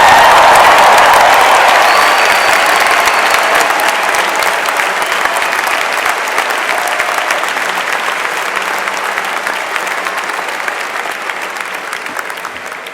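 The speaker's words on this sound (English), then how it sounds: "please rise and give yourself a very big round of applause" A large crowd at a spring university commencement applauds loudly and continuously, a thick, sustained roar of clapping with light cheering that slowly tapers over thirteen seconds.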